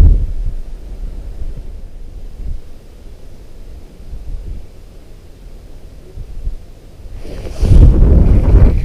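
Heavy wind buffeting a microphone while ice fishing on a frozen lake in northern Wisconsin, a constant low rumble with gusts, growing stronger and harsher near the end.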